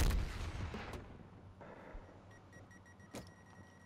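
Semtex grenade blast in Black Ops Cold War: a heavy, booming explosion at the start, then scattered sharp gunfire-like cracks and a distant thud over quiet game ambience, with no talking.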